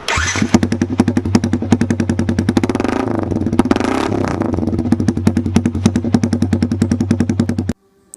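Scooter fitted with an aftermarket exhaust muffler, idling then revved in a rapid, loud, popping chug that rises and falls, close to the microphone, and cuts off abruptly near the end.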